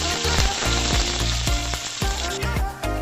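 Chopped onions fry loudly in a pan for prawn malai curry, a close, constant sizzle punctuated by quick rhythmic scrapes of a spatula stirring them.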